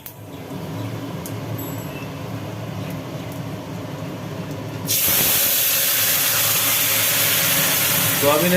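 Cumin seeds, a bay leaf and sugar hit hot oil in a kadai, and a loud, steady sizzle bursts in halfway through, replacing the quieter kitchen background and holding strongly to the end.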